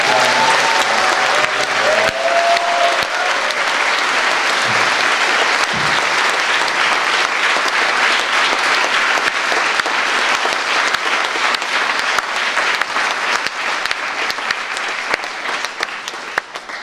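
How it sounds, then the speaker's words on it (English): A church congregation at a Thanksgiving service breaks into sustained, loud clapping and cheering that fills the room steadily for the full length, with a few voices heard early on. "Can we give a clap offering to the Lord and shout?"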